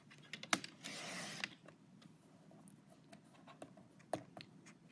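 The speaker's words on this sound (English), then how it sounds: "So put that into your cutter, and you want to just do a 1/2 inch strip." A paper cutter slices a half-inch strip from a 12-inch sheet of dot paper, a brief scraping swipe of the blade near the start, with light clicks and handling taps around it.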